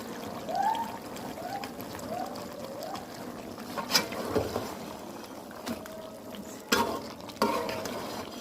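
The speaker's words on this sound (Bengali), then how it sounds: "এখন দিয়ে দেব আদা বাটা।" Ginger paste being added to a cooking pot and stirred, with soft scraping and wet stirring broken by a few sharp clatters and thumps, close and moderately loud.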